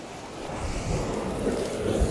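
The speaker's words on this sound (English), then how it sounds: "the sea coming from this channel here" Sea waves wash in through a rocky channel on the Northumberland coast near Seahouses, a steady close surf roar with wind buffeting the microphone throughout and no voices.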